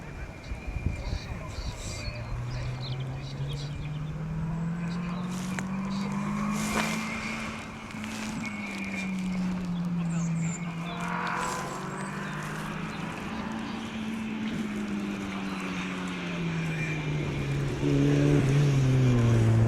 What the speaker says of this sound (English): very tidy driving by Chris Lawrence and Kevin Gould in that little MGZR 1400